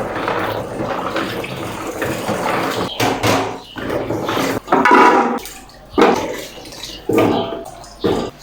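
Banga palm nuts being washed in water inside a cooking pot, with repeated sloshing, splashing bursts and hard clattering of nuts against the pot, close and loud in uneven surges, no talking.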